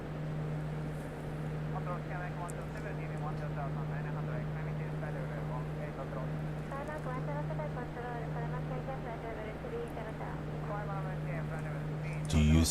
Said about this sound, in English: Just doing a little flyby.